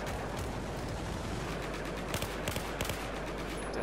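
Scattered gunfire from a Battlefield 4 battle on a snowy blizzard map, a few sharper shots standing out from a steady noisy wash of distant fire and wind.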